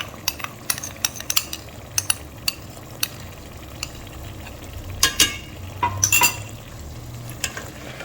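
Beaten eggs stirred into semolina halwa in a pan, with a spoon scraping and clinking against the metal in an irregular rhythm under a faint sizzle, no talking.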